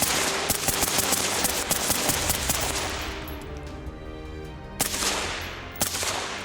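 A suppressed rifle fires at targets in rapid bursts of sharp reports, dense for about three seconds, then two more separate shots, each with a short ringing tail.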